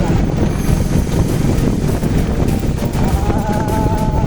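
Steady, loud wind buffeting the microphone at a dam, a continuous broadband roar with no clear speech.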